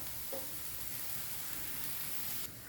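Coriander powder roasts in a hot pan for a prawn curry, giving a steady close sizzle and hiss with a faint stir near the start.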